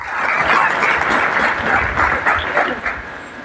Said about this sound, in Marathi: मग काही प्रमाणात टाळ्या वाजल्या